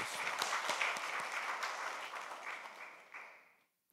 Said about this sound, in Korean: 다시 한번 격려의 박수를 드리겠습니다.